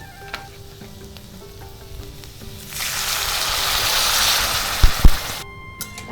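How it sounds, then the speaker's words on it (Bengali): Water poured into a hot pan of frying papaya and chickpea lentil curry sets off a loud, rising hiss that swells for a few seconds, then cuts off with a couple of sharp knocks. "এবার কিন্তু জল দিয়ে দেবো"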